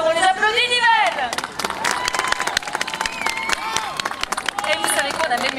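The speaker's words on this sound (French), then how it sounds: "On les applaudit, Nivelles." An outdoor crowd at the Viva for Life charity event in Nivelles, Belgium, applauds the children with dense clapping and cheers, while voices ring out over it and the whole scene stays loud and lively.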